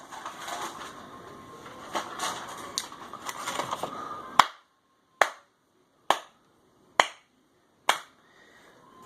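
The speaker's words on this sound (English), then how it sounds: "That is the slow clap that I give to the Oakland Raiders" Slow clap: a stretch of speech and noise, then five single hand claps spaced about a second apart, each loud and sharp with silence between.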